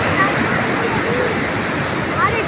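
Floodwater of the swollen Sasa river pours past a bridge at Nawan Nagar village, a steady, close, loud rushing roar with no break.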